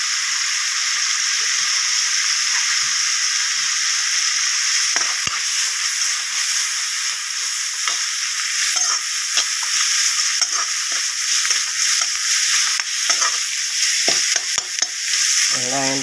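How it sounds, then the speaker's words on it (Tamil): Onions and tomatoes sizzle and hiss steadily in a hot pan with salt and spices, with occasional scrapes and stirring knocks from a utensil. "வெங்காயம் தக்காளி நல்லா வதங்க விட்டு"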